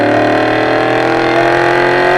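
Loud, sustained revving from a 2011 Ford Mustang 5-liter V8 with a Borla Attack exhaust, a dense throaty drone held steady at close range for the whole stretch, without speech.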